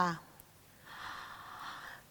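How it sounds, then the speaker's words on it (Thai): A quiet, airy breath in during a singing breathing exercise comes as one soft inhale of about a second, faint and close, after a brief trace of voice. "หายใจเข้าค่ะ"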